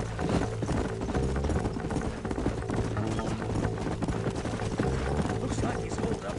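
Horse hooves clip-clop in a steady, rhythmic trot from a Red Dead Redemption ride, close and continuous, under a dense bed of music and a voice talking over it.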